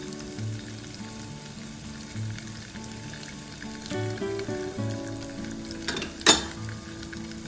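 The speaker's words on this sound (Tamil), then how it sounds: "தாளிக்கிறதுக்கு கடுகு, காஞ்ச மிளகாய், கருவேப்பிலை" Mustard seeds and dried chillies sizzle and pop in hot oil for tempering an omelette curry, a steady soft frying hiss with small crackles and one sharp clink of a utensil.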